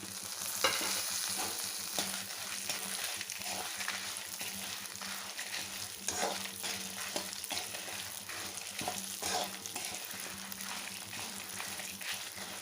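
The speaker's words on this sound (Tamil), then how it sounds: "பருப்பெல்லாம் நல்ல செவக்க வறுக்கணும்." Lentils, peppercorns, cumin, fenugreek, sesame seeds and dried red chillies dry-roasting in a pan for ponnanganni greens spice powder, a steady dry crackle with frequent stirring scrapes running throughout, no voices.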